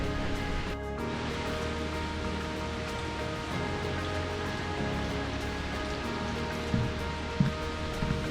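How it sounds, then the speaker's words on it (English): A quiet, steady rush of river water trickles over stones on a reed-filled stretch of a country river, a soft continuous wash with a couple of small knocks near the end. "All you can hear is the water flow"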